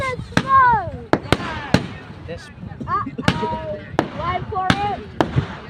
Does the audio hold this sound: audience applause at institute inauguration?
no